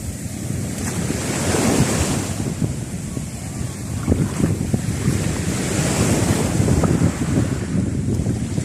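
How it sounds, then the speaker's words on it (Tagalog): Loud, rolling ocean waves crash and surge repeatedly, mixed with strong wind buffeting the microphone, close and continuous. "Lakas ang alon."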